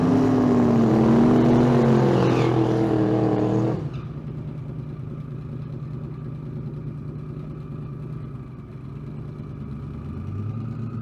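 A drag race car at the Street Car Super Nationals in Las Vegas roars hard down the strip with a rising engine note that cuts off abruptly, leaving a lower, steadier rumble afterward.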